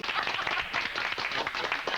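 Studio audience applauding at a 1993 television tribute, a dense, steady wash of many hands clapping close and loud for the full two seconds with no speech over it.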